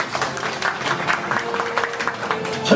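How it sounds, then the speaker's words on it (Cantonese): An award ceremony audience applauds a professor receiving a health achievement award, steady clapping from many hands with some crowd murmur, moderately loud and continuous. "我哋俾啲掌聲徐教授好嗎？"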